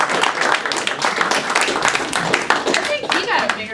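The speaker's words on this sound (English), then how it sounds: "he got a bigger round of applause" A room full of people claps in loose applause while voices chatter over it.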